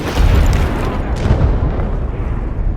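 A cannon blast in the stealth video game Hitman sets off a heavy, rumbling explosion that booms close and loud, then tails off into a sustained roar of debris and echo.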